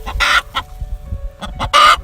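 A hen clucks loudly and close after laying an egg, giving short bursts of squawking cackles with quieter clucks between them, and no voices are heard.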